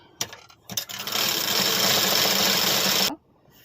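A sewing machine stitches a small piece of cloth, starting with a few brief whirs before running in one steady, fast, loud burst for about two seconds and then stopping.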